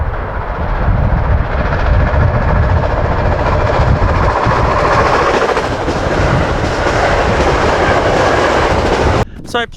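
A train rolls past on a railway near a bridge, loud and continuous with rhythmic wheel clatter and rumble, ending in a few sharp clicks.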